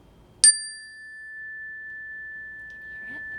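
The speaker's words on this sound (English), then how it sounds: "I want you to listen to the sound of this bell." A single struck meditation bell rings once with a sharp attack, then a long, pure sustained tone that fades slowly over several seconds in an otherwise quiet room.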